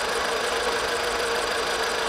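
A car engine idles too low, around 720 to 790 rpm, and struggles to keep running, producing a steady, close, even rumble with a rough knocking texture and no break.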